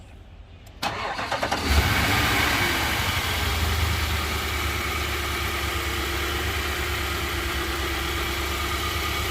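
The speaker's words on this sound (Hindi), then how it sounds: "गाड़ी को स्टार्ट करेंगे।" Nissan Patrol engine cranks briefly and catches, then settles into a steady, loud idle that continues to the end.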